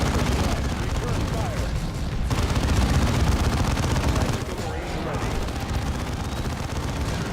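Dense, continuous squad gunfire from the Dawn of War II strategy game, a loud sustained rattle of rapid shots with booming impacts. A brief lull comes partway through, then the firing resumes at a slightly lower level, with a voice mixed in.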